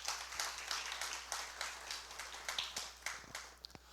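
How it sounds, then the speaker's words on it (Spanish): A church congregation claps in a fairly faint, scattered round of applause, many hands patting irregularly with no talking. "Denle un fuerte aplauso al Señor."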